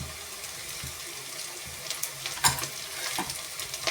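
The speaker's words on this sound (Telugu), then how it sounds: "ఇప్పుడు ఉల్లిపాయలు వేసుకుని కట్ చేసుకున్న పచ్చిమిరపకాయలు, కరివేపాకు వేసుకోవాలి." Onions, green chillies and curry leaves frying in a pan for a cucumber and dried fish curry, a low steady sizzle with a few sharper crackles and stirring clinks, fairly close, with no talking.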